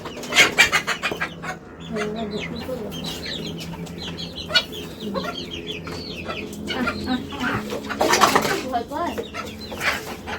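Chickens and turkeys clucking in a farmyard, with close, busy cackles and calls rising and falling throughout, brief wing flaps, and people talking nearby.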